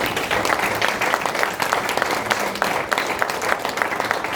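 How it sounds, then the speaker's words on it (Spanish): Dense applause from a large church congregation fills the room, a steady wash of many hands clapping with scattered sharper claps, loud and continuous throughout. "Den un aplauso al Cristo."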